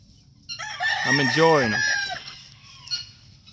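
A Kelso chicken in a backyard crows once up close, its rising and falling call lasting about a second, followed by softer clucking while someone speaks briefly.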